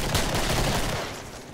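A Desert Eagle hand cannon firing in the video game Killing Floor: a dense, loud crackle of shots for about a second, then a fading tail.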